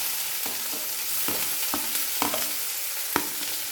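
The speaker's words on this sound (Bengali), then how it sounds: "তেলের মধ্যে পেঁয়াজ নাড়াচাড়া করে নেব" Chopped onion, added after green chilli, is stirred in a couple of spoonfuls of hot oil, producing a steady loud sizzle with repeated scraping strokes of the spatula against the pan.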